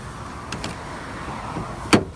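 Door lock actuator on a Dodge Ram pickup truck, a couple of soft clicks followed by one sharp, close mechanical clunk near the end, with quiet background otherwise.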